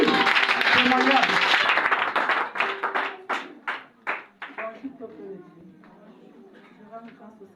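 A congregation claps and applauds together at a church testimony service, loud and dense at first, then breaking into scattered claps that fade over several seconds.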